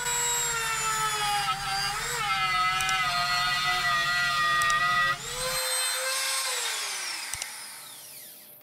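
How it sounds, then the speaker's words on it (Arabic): A router motor whines at high speed for several seconds as the bit drills into wood for a drill press table track, its tone dipping slightly under load, then winds down as the bit spins to a stop. "برضو بنحفر على كذا مرة عشان نريح البنطة والراوتر"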